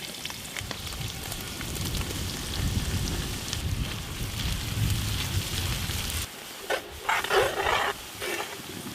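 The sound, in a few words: onions frying in cow ghee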